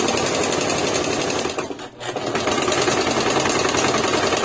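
A sewing machine straight-stitches down the side seam of a top, its rapid mechanical clatter running steadily and close, with one brief slowdown midway before it resumes at full speed.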